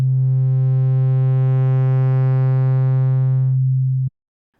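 A steady, buzzy wavetable synth note with phase distortion modulated at audio rate holds loud and unchanging for about four seconds, then cuts off abruptly with a brief click before silence.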